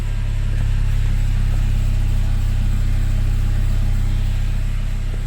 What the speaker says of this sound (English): Well, that's one quiet car.